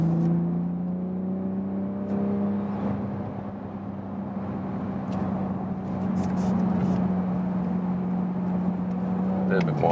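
A 2019 BMW Z4 M40i (G29) in sports mode accelerates, its engine a steady droning hum from inside the cabin that rises slightly in pitch, with occasional faint clicks and road noise.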